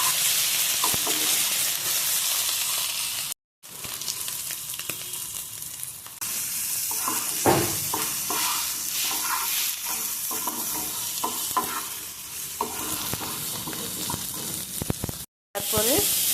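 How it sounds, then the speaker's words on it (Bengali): Boiled potatoes fry and get stirred in a hot pan, a dense close sizzle broken by scraping and clattering stirs, with two brief silent cuts along the way. "তারপরে সেদ্ধ আলুটাকে একটু ভাজা ভাজা করে নেব।"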